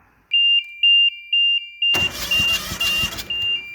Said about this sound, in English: It's probably backfiring out the carburetor.